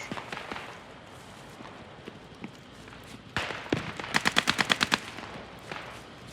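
Gunfire in the World War II shooter Post Scriptum: scattered distant shots early on, then a louder close burst of rapid automatic fire with about eight sharp evenly spaced cracks.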